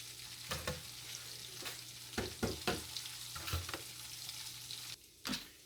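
Potatoes sizzle steadily in a skillet, a constant close hiss broken by several sharp scraping stirs of a utensil against the pan, with no talking.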